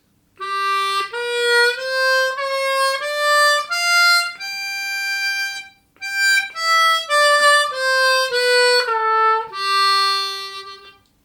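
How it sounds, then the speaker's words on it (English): A harmonica climbs a blues scale and then comes back down a major scale, the single notes held clearly and separately with a few bends and a short pause in the middle. It plays solo and sounds close and loud. "we're going to be kind of moving up a kind of blues scale and then back down a major scale"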